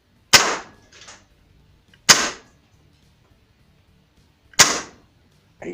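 Three sharp, loud shots from a Umarex Synergist air rifle firing Beeman coated wadcutter pellets, each a crisp crack with a short decay, spaced a couple of seconds apart, plus a faint click and no voices.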